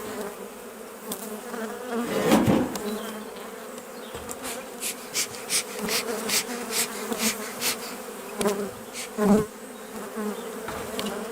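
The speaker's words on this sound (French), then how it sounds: "Vous allez avoir des abeilles sur l'objectif, je suis désolé." Honey bees buzz around an open hive while a small colony is moved into a full hive, a steady close swarm hum with individual bees zipping loudly past the microphone.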